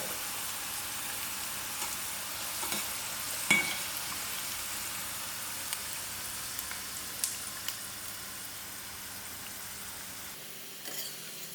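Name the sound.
okra (bhindi) sizzling in oil, being stirred and removed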